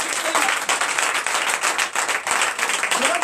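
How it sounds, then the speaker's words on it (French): A church congregation at a night deliverance and prophecy service claps and cheers in acclamation, a dense, loud, sustained burst of applause with shouts that holds steady for the whole stretch. "Donnez encore de vive acclamation."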